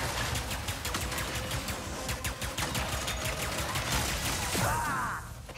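Rapid sci-fi gunfire from the action game Ratchet & Clank: Rift Apart, a dense stream of repeated shots in quick rhythm layered over game noise and effects, steady and loud throughout with no talk.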